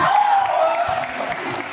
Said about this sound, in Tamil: புகழ் மேலே கேட்கிற பெரிய கைத்தட்டலுடன்